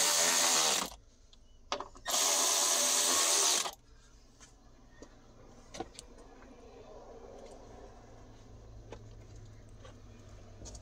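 A power drill drives screws back down on a battery compartment lid in a 2019-or-later Mercedes Sprinter 907 van, two loud bursts of whirring in close succession near the start, then quiet workshop ambience.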